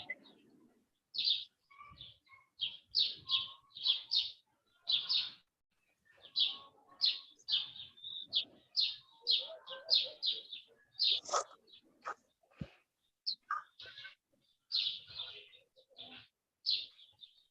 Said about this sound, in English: Where is the bird song is coming from?